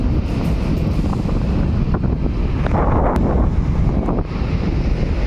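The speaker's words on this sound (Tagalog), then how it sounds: "medyo mahangin po dito" Strong wind buffets the microphone at Bagasbas beach, a loud, continuous roaring rumble with gusty swells and surf-like wash throughout, no voices.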